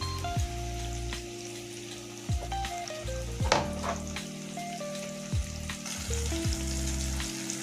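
Sliced capsicum strips sizzle and fry in a pan with turmeric, a steady crackling hiss broken by several brief stirring clatters, close and moderately loud with no talking.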